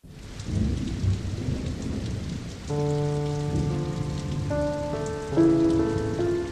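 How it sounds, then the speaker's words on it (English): Heavy rain pours steadily while low thunder rumbles beneath; partway through, sustained tonal notes rise over the storm. "they walked through the downpour"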